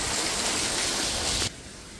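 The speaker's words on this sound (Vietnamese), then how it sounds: "Đây có suối chảy đẹp quá mọi người." A stream in a Vietnamese fruit garden in South Korea gives a loud, steady rush of flowing water that drops suddenly in level near the end.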